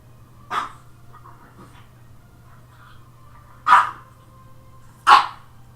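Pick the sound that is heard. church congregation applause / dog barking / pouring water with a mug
dog barking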